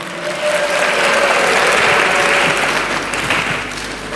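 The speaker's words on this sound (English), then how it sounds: "can we hear a clap offering unto the Lord?" A church congregation at a biennial general meeting claps as an offering, dense and loud sustained applause swelling slightly in the middle and carrying on throughout.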